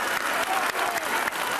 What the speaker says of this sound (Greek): Ένα χειροκρότημα στο Τηλετώρα.